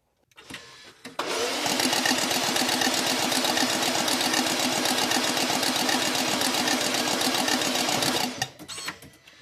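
A BMW X5 engine cranks with its spark plugs removed, a fast, even whirring chatter of the starter spinning the engine freely for about seven seconds, loud and close, stopping cleanly with brief clicks before and after.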